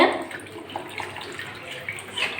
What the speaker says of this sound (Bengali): এবার জল দিয়ে দিচ্ছি তোমরা চাইলে গরম জলও দিতে পারো আমি ঠান্ডা জলে দিচ্ছি